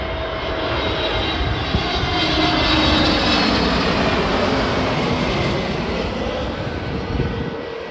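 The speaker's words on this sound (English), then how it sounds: "A321 Neo coming in from San Francisco International Airport" An Airbus A321neo jet lands at Newark airport, its engines roaring loud and close in a broad, steady rush that swells and slowly fades.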